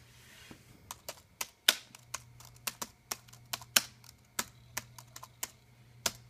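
Keys tapped on a Compaq Armada 4130T laptop keyboard in an uneven, steady rhythm of crisp clicks, close and fairly quiet against a low hum.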